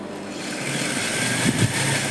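A sewing machine runs steadily while stitching the side opening of a chudidar, giving a continuous close motor whir with a slight rise near the end.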